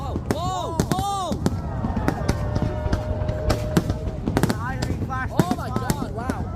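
Fireworks at the Boston July 4 drone and firework show pop and crackle in quick irregular bursts, with several sharp bangs over a busy outdoor crowd; excited voices talk and exclaim throughout.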